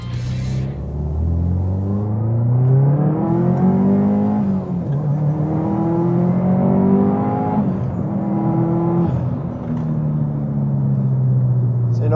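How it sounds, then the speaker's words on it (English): A Subaru STI on a highway on-ramp accelerates at wide open throttle, engine note climbing through several gears with brief dips at each shift, loud rumbling interior sound throughout. "Do a little wide open throttle stuff here and see how the car goes."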